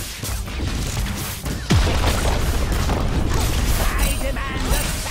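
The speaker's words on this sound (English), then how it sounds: "Your turret has been destroyed." Turret destroyed in a video game: a heavy boom hits partway through, followed by crumbling, creaking debris and rumbling mechanical collapse, layered over busy game noise.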